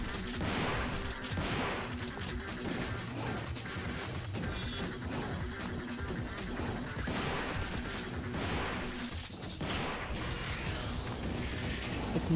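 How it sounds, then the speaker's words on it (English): Gunfire from a battle against a boss in the video game Devil May Cry 2, dense clattering shots and mechanical crashes running continuously under game music and effects. "This battle is just shooting it, and then it sometimes shoots at me."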